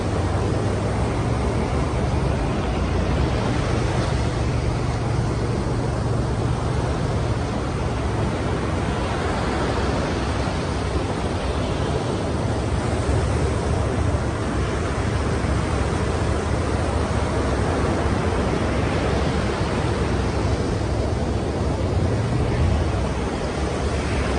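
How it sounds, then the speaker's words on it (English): Ocean waves and surf roar as a constant broad wash of noise, steady and close throughout with gentle swells in loudness and no talking. "we'll just sit here for just a few minutes so you can get hear the ocean"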